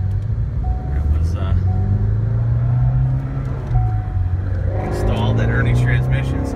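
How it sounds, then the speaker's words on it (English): A 2016 Shelby GT350 with a Whipple supercharger accelerates in a loud, continuous engine drone that rises in pitch and roars close by, with voices talking over it. "starting out in the 2016 Shelby GT350 with Whipple supercharger."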